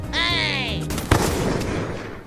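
A single sharp sniper shot in a video game, a loud crack followed by a decaying rumble, heard after a brief rising electronic whine.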